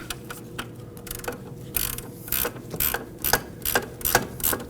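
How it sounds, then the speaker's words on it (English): A ratcheting wrench clicks in short, repeated bursts while tightening the upper brake bracket bolt on the front brakes of a 1993–2001 Subaru Impreza; close, crisp mechanical clicks with no talk. "The upper bracket bolt is difficult to get to because of the strut bolt, so it's best to use a wrench."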